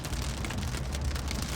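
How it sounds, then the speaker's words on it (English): A hail storm while driving through Wyoming pelts the vehicle in a dense, unbroken drumming roar, loud and close, with scattered sharper hits standing out from the steady clatter. "I'm getting ready to drive into the heaviest part of the hail."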